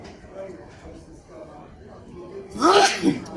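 A loud, sharp sneeze bursts out near the end after a stretch of quiet background murmur.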